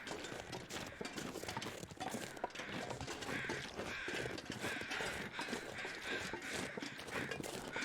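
Crows caw amid steady game ambience in a Mystery Lake wilderness setting, with a continuous outdoor wash throughout the clip, alongside bird calls and some rhythmic clip-clop-like knocking.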